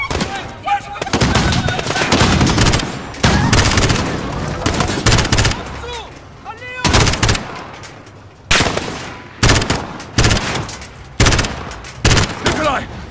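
Bursts of gunfire ring out in the 'Old Comrades' mission of Call of Duty Modern Warfare (2019), loud rapid volleys and single shots in irregular clusters across the scene, with in-game voices shouting between and under the shooting.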